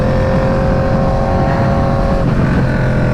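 An Aprilia RSV4 motorcycle with a 520 chain and sprocket conversion, its engine held steady near 7,000 RPM while riding, giving a loud continuous drone with a constant tone and wind rush.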